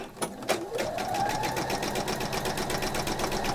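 A sewing machine runs steadily while stitching fabric for a small coin purse, a close, continuous whirring rattle after a couple of brief clicks at the start, with no talking.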